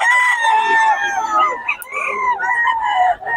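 A young stag gamecock crows loudly up close, giving a drawn-out, wavering cock-a-doodle call that breaks into a few short clucks, all within a few seconds.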